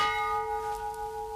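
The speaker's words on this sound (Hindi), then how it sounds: "जो ही जंजीर हिलती घंटी बजने लगती।" A single palace bell hangs from a justice chain at the gate and rings once when the chain is pulled, a clear sustained tone with a gently pulsing decay, alone and fairly close.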